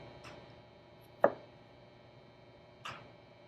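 A knife slicing strawberries on a cutting board, three soft, separate cuts with the middle one the sharpest, in a quiet room.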